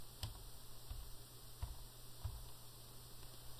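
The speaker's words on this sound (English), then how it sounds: "start typing the name of your bank" Keys tapped on a computer keyboard while entering a bank's name, a few sparse, faint clicks spaced about half a second apart over a steady low background hum.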